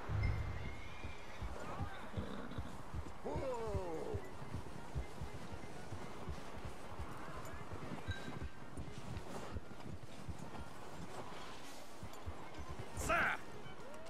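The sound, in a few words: horse neighing in Red Dead Redemption 2 video game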